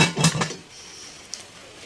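A metal cooking pot, a kaldero, is handled with a few quick clanks and scrapes at the start, then a single faint clink, up close with no talk.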